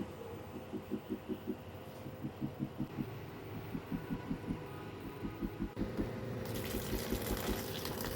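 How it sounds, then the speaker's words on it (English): Raw peanuts being washed by hand in water, with a steady rhythmic swishing and sloshing repeating in regular pulses over a constant low hum. "So now done with picking the peanut, I go ahead to wash it."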